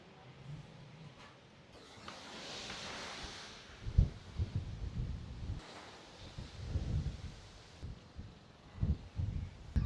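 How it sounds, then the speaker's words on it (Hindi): Wind blowing outdoors near a field, a broad rushing hiss with gusts that rise and fall, brushing against the microphone with some rustling, alone without speech. "मस्त हवा चल रही है"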